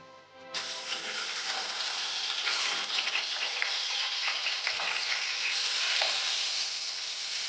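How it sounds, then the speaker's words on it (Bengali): Fish frying in oil in a pan sets off a sudden, continuous hiss and crackle that starts after a brief quiet moment and holds steady, close and moderately loud, with no voices. "মাছটা ভাজা হয়ে গেল"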